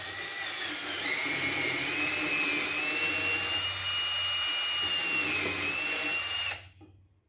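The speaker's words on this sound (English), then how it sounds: "I think I'm gonna buzz it out with my drill just a little bit" A power drill whines steadily at high pitch for several seconds, close by, cleaning out a threaded hole before tapping, while removing a Briggs and Stratton engine flywheel, then cuts off abruptly.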